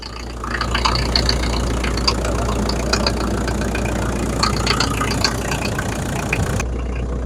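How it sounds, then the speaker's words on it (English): A Toyota Land Cruiser BJ73 diesel engine idles close by, a steady low rumble with a faint knocking texture that starts up and holds even, with no talk over it. "the engine is running that smooth, I can't believe it"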